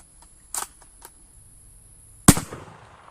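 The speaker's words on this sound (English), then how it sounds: "Man, this rifle's just so delightful to shoot, dude." A cut-down gain-twist Carcano rifle fires a single sharp, loud report near the end, followed by a brief ringing decay, after softer handling clicks and a quiet background.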